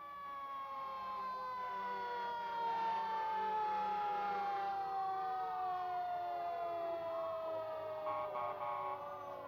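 A 1983 100-foot power ladder fire truck siren wails steadily at moderate distance, its pitch slowly sliding downward as the vehicle passes, with rumbling traffic underneath.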